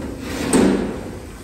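A single drawer on a thick-built tofu table slides and lands with one short, fairly loud thud against a steady room hum.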